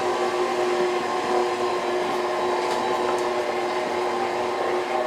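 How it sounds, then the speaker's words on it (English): An electric mixer beats thick ricotta cookie batter with a steady, close-up whirring motor drone that holds constant for several seconds, with no voices. "You can hear the speed of the mixer start to change as the flour makes the batter thicker."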